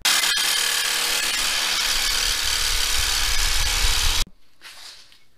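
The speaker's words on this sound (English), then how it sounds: "So I'm just gonna take a sawzall" A Sawzall reciprocating saw trims a bolt on a Jeep Cherokee XJ, running loud and close in one continuous buzzing cut for about four seconds before stopping abruptly, leaving quiet shuffling.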